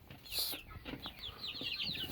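A Barred Rock Silkie mix rooster clucks in short, repeated bursts close by, with other chickens calling faintly around it in a farm tent.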